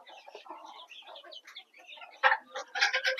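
Chickens cluck and chatter in a farmyard while eating scattered feed, with young birds crowding in; the calls come in quick, overlapping bursts that grow louder and denser toward the end.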